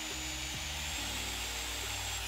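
A Liquid Element polisher runs after a grease change, giving a steady low mechanical hum with a faint high whine, continuous and moderately quiet.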